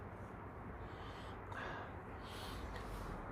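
A person sniffs close to a drink to take in its fruity aroma. One faint, short breathy inhalation comes over quiet outdoor background noise, and no one speaks.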